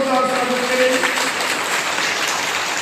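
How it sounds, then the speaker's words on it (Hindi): An audience claps to welcome a doctor at a health check-up gathering, dense continuous applause that stays fairly loud and even throughout, with a voice speaking over it near the start. "सब तालियां बजा के आपका जोरदार स्वागत करें"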